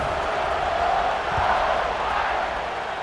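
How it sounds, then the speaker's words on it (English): A stadium crowd roars in EA Sports College Football 26 at a Georgia versus Notre Dame game before a kickoff, a dense sustained wash of cheering that stays loud and swells slightly midway. "this crowd now ready to get behind them"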